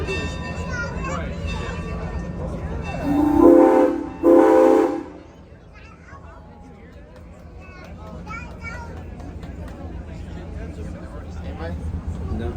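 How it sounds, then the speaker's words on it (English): A 1927 passenger locomotive at the Los Angeles Union Station Train Festival sounds two loud horn blasts close by. A low idling rumble and crowd chatter continue afterward. "So this is a 1927 passenger locomotive."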